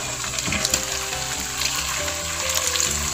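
Chicken pieces frying in a pan, a dense close sizzle with bubbling and a few soft stirring knocks, no voices.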